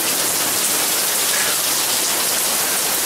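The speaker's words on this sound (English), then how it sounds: "It's been raining like this all week." Heavy rain pours down steadily in a dense, unbroken hiss of countless drops striking surfaces, loud and close with no pauses.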